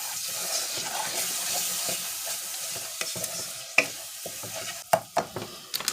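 Dough for vegan Puerto Rican alcapurria fritters, seasoned with salt and a packet of sazón, is stirred and mashed in a bowl: a steady wet churning near at hand, then a few sharp knocks toward the end.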